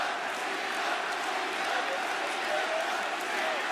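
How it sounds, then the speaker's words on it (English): A wrestling arena crowd at a John Cena match sends up a loud, continuous roar that stays dense and steady throughout. "as the crowd starts to get louder and louder"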